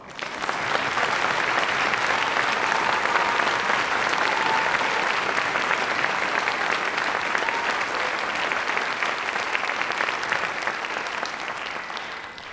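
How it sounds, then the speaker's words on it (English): An audience claps loudly and steadily for several seconds, a dense, sustained round of applause that tapers slightly toward the end. "So let's applaud her for that."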